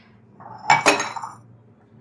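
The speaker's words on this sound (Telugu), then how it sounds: "ఇది గిన్నె తీసుకెళ్ళి పొయ్యి మీద పెట్టేస్తే" A metal cooking pot is set down on a gas stove, a quick pair of clanking metallic knocks with a brief ringing tail, followed by a faint tap.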